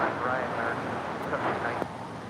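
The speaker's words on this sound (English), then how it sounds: "this is China Eastern Airlines, flight 7583, coming in from Shanghai, and this 777-300ER landing here on 25 left." A China Eastern Boeing 777-300ER landing on runway 25 left at LAX, its jet roar a broad, steady rush heard from a distance under a voice talking.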